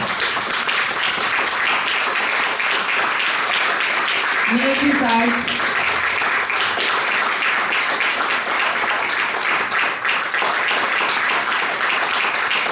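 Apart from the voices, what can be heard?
audience applause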